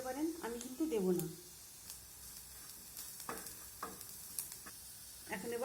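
Onions fry with turmeric powder in a pan. A soft, steady sizzle runs under occasional stirring scrapes, and a voice speaks at the start and again at the end.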